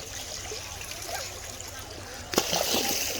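Clear river water splashes and flows steadily nearby, with a sharper splash near the end, while people talk over it.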